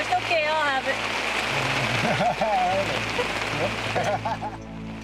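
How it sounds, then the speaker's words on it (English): Steady, hissing rain falls continuously throughout, with muffled voices talking faintly underneath. "Well, I guess it's raining and settling."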